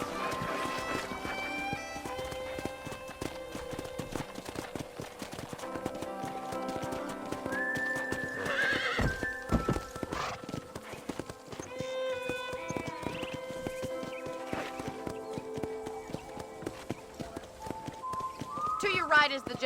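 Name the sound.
horse galloping in a video game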